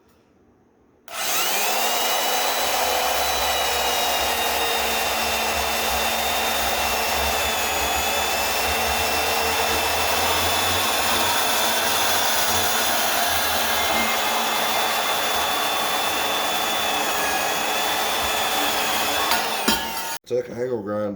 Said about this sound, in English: Took an angle grinder, I split this down the center